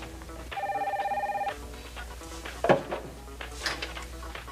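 An old-style telephone bell rings in two bursts of rapid trilling, fairly close and clear, followed by clinks and a handset being lifted.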